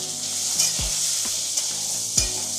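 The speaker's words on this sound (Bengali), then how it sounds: "আলুগুলো একদম ডিপ ফ্রাই করছি।" Cut potatoes deep-fry in mustard oil with turmeric and salt, a steady close sizzle and crackle broken by a few brief scraping stirs of a utensil against the pan.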